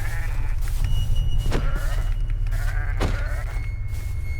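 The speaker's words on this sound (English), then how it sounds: "Alright, we got some sheep over here." Sheep in a video game bleat several times, close and clear, with short wavering cries over a steady low background hum.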